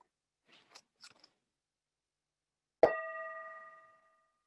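A few faint scrapes and taps, then one clear bell strike at a meditation retreat that rings out and slowly fades over about a second.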